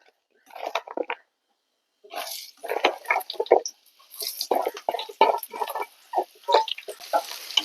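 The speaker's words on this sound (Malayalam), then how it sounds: "സവാള നല്ലോണം വഴറ്റി കൊടുക്കുക" Sliced onion sautéing in hot coconut oil in a pan, heard as uneven bursts of scraping and sizzling from stirring, separated by short pauses, close and moderately loud.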